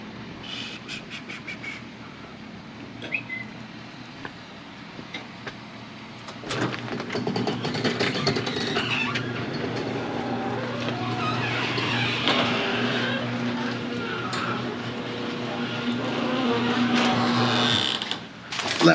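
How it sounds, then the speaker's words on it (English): A residential garage door rolls open with a steady mechanical rumble and whir that sets in partway through and runs for about ten seconds before stopping, fairly close and loud against the quieter room sound before it. "All right, open the garage."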